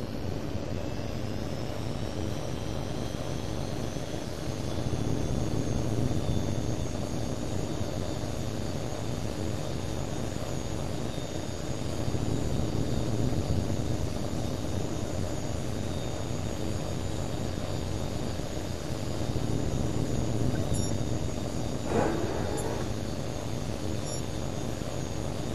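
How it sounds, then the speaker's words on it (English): Jet aircraft engine roaring steadily through a takeoff in the video game Tom Clancy's H.A.W.X. 2, a continuous broadband drone with slow swells in loudness and no talk. "You're clear for takeoff."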